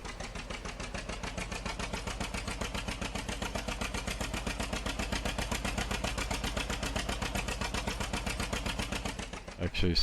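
John Deere 730 diesel tractor engine on a dyno, a steady loping two-cylinder putt-putt idle with even rapid beats throughout, close and loud, ending with a brief louder burst.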